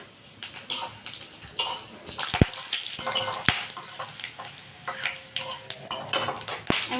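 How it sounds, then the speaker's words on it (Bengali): Whole dried red chillies, bay leaves, cumin and garam masala crackle and sizzle in hot oil for tempering a cabbage dish, with sharp spluttering pops and occasional metallic knocks of a spoon against the pan, close and lively. "তেলের মধ্যে ফোড়নে দেবো আমি গোটা শুকনো লঙ্কা, গোটা তেজপাতা, গোটা জিরে আর গোটা গরম মশলা।"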